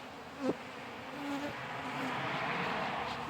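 Honey bees from a hive with a drone-laying queen drone steadily close by, a continuous insect hum rising slightly in loudness over a few seconds.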